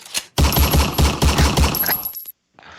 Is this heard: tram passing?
no